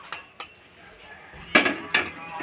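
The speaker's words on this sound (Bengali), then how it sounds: "এর মধ্যে আমি কড়াটা বসিয়ে দেব।" A wok is set down on a gas stove in a couple of sharp metallic clanks, preceded by lighter taps and scrapes, close and fairly loud.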